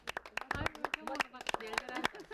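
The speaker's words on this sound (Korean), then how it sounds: "자, 박수." Family members at a home birthday gathering clap their hands together: a short burst of sharp, uneven claps mixed with lively overlapping voices and laughter close by.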